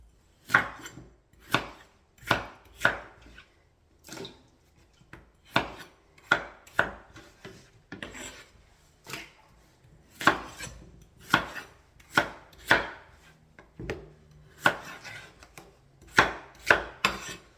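A knife chops potatoes on a board in a home kitchen, about twenty crisp, sharp strokes in uneven bursts with brief pauses between groups, close and clear without talk.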